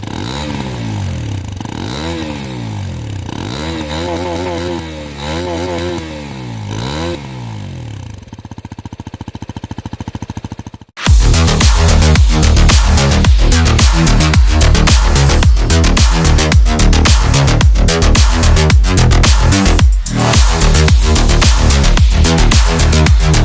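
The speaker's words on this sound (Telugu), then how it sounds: "ఎగ్జాస్ట్ నోట్ కూడా చాలా బాగా ప్రొవైడ్ చేయడం అయితే జరిగింది" A Hero Xpulse 210 motorcycle exhaust note: after a stretch of idle with someone speaking over it, the engine suddenly becomes loud and close, revving with a rough, rhythmic, pulsing rumble that persists to the end.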